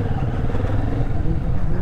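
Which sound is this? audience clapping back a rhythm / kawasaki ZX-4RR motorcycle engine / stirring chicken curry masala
kawasaki ZX-4RR motorcycle engine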